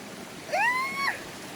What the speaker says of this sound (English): I have to cross a creek.